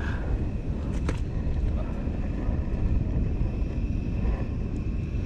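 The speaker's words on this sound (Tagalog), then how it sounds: "Malakas kasi hangin kaya" Strong gusting wind buffets the microphone outdoors with a loud, continuous low rumble, while faint voices and kitchen sounds sit underneath.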